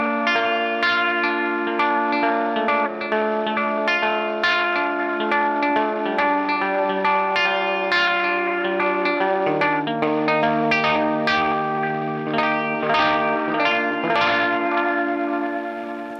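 An electric guitar plays through a Death by Audio Echo Dream 2 echo pedal, sustained chords and picked notes smeared into shimmering, repeating delay trails, continuous and loud with no talking.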